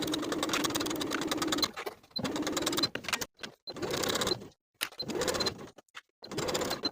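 Sewing machine basting the side edges of fabric for underwear, rapid close mechanical stitching in several bursts separated by short pauses, alone.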